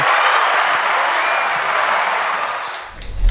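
Studio audience applauding to welcome a guest onto an Indonesian football talk show, a dense, even burst of clapping and crowd noise that tapers off before a brief thump at the end.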